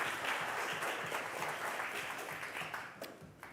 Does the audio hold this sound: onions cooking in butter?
no